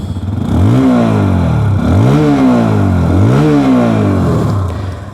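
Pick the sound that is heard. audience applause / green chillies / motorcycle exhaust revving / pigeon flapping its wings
motorcycle exhaust revving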